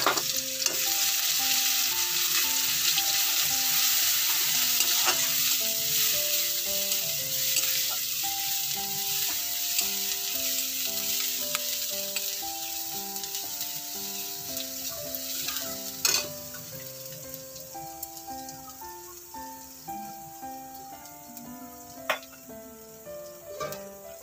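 Garlic paste fries in a pan with a loud, steady sizzle, and occasional scrapes and knocks come from stirring, close and without talk.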